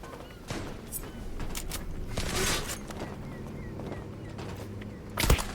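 Gunfire in the Zula online shooter, with a sniper rifle shot among it, sounds as a dense crackle of in-game shots and thuds under a continuous game soundscape, ending in a sharp, louder report near the close.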